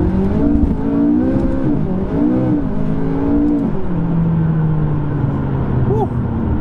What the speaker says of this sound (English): This car, when you put your foot down,